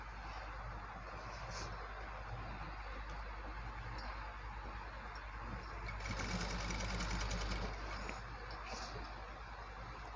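A sewing machine stitching box pleats on a can-can lehenga, a faint, steady mechanical whirr running continuously under low room hum, swelling slightly near the end.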